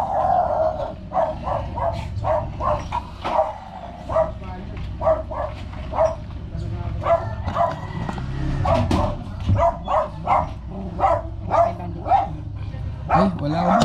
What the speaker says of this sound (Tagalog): Laka ng aso.